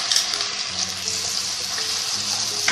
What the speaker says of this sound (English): Now let's add in our onion cashew paste into the oil.